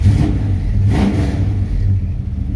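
A 1970 Plymouth Duster's engine runs steadily with a loud, rough low rumble and a brief swell in revs, heard up close with no talking.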